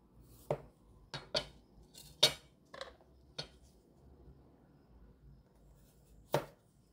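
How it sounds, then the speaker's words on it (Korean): Knife chopping through Korean zucchini on a cutting board, julienning it into thick matchsticks: a handful of sharp, separate knocks spaced irregularly, close and fairly loud, with quiet between strokes. "이거를 채를 썰어 줄 건데요."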